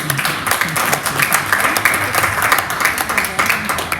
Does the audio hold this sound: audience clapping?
yes